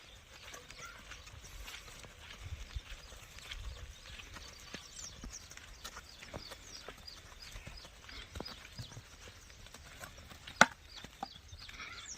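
Buffaloes released in a village walk off one by one, their hooves clopping in a steady scattered rhythm on the ground, with faint farmyard fowl in the background and one sharp knock near the end.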